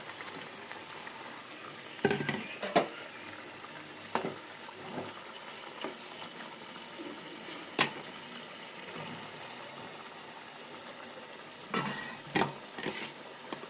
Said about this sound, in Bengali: এবার আমি দিয়ে দেবো করলা ভাজাগুলো